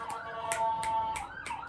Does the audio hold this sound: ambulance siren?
yes